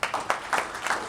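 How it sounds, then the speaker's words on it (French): A crowd in Attécoubé claps for the mayor in a short burst of scattered, fairly close applause. "nous voulons vraiment acclamer très fort,"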